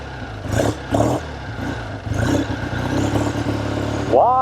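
A 1970 Triumph Tiger 650 motorcycle pulls away, its engine revving in uneven bursts and clattering up close before climbing into a rising whine as it gets underway.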